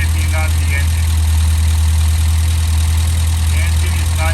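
A Volvo 1800ES engine idles steadily during a coolant system test while still cold, a continuous low rumble holding close and even for the whole stretch, with faint background sounds.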